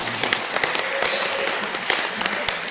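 Spectators at a wildlife park sheep show clap, sparse individual claps mixed into a steady crowd patter at moderate loudness.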